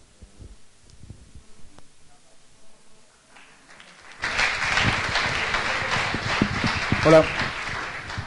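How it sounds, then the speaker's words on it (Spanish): After some quiet shuffling and a brief greeting, applause bursts out from an audience at a talk on social media and online marketing strategies, holding steady at moderate loudness for several seconds. "Gracias por el aplauso."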